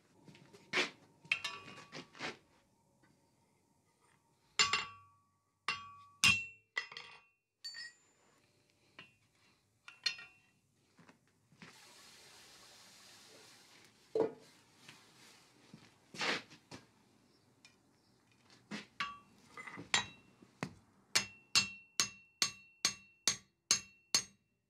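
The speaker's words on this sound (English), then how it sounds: "we can get a monkey tool on there, which is basically just a block of steel with a hole in, to upset the shoulder" Steel monkey tool, a block with a hole, hammered down over a steel tenon to upset and square its shoulder: sharp metallic strikes in scattered groups, ending in a quick steady run of about ten evenly spaced ringing blows, close and loud.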